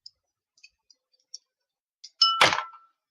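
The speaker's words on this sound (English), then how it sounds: "you probably just heard me drop it and hit a glass" A pencil dropped against a glass: a few faint ticks of handling, then one sharp bright clink with a short ringing, rattling tail, close and loud against near silence.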